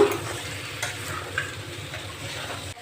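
Chopped carrots and beans are stirred in a hot pan of oil for vegetable biryani, a steady frying sizzle broken by a few soft scrapes and taps of the spatula, heard close with no talking.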